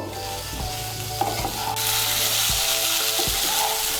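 Eggs, potatoes and soybean chunks being stirred with spices in a frying pan give a steady close sizzle, with a few scraping spoon strokes. The sizzle brightens and grows louder partway through.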